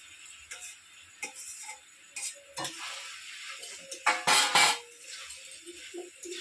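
Mixed vegetables such as potato and eggplant are stirred into hot spiced oil for a village navaratna dish, giving soft sizzling with intermittent scraping stirs and a louder burst of frying near the end.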